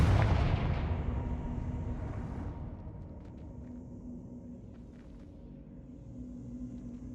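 A Confringo fire spell explosion in the Hogwarts Legacy video game, opening with a heavy booming blast that rolls off into a long fading rumble, followed by faint scattered clinks against a low steady hum.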